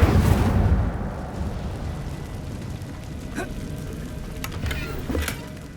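A fire spell cast in the Hogwarts Legacy video game gives a loud burst of flaring, crackling roar at first. It settles into a rumbling, rain-like wash with a few sharp flickers and a brief swell before it fades.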